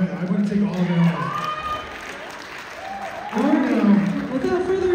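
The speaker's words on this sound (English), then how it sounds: "whoever your seamstress was, your costume makers, a round of applause for you" Applause at a Granger High School heritage and roots competition, a crowd clapping for the costume makers. Clapping and cheering sound moderately loud and swell again near the end, with voices mixed in.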